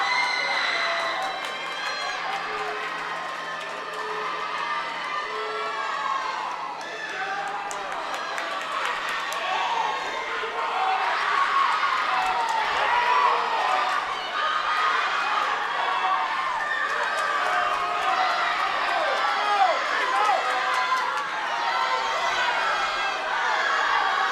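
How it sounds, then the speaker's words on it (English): Girls' swim meet: swimmers lining the pool cheer and shout continuously in an echoing indoor pool hall, many voices overlapping in a loud, steady roar. "The side of the pool is getting lined with swimmers cheering on their teammates."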